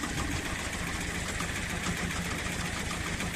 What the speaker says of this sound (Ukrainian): От я вирішив зробити тест-драйв свого мульчера. От. Отак він крутиться на холостих.